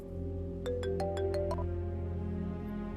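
A telephone rings in a quick electronic burst of six short tones over a steady low hum, then only the hum continues.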